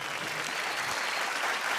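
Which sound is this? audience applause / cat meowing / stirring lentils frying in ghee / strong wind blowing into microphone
audience applause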